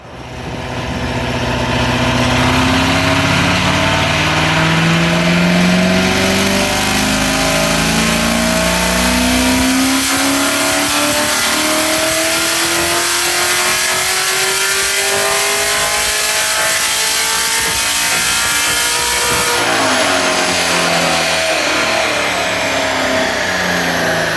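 A Corvette C7 fitted with an NPP dual-mode exhaust revs hard on a dyno during a horsepower test, a loud, close engine climbing steadily through the gears in long sweeping pulls, with no voices.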